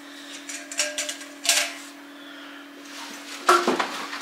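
A small, thin non-stick camping frying pan being handled, giving a few light clanks and taps spread across the moment over a steady low hum, with a sharper metallic knock near the end.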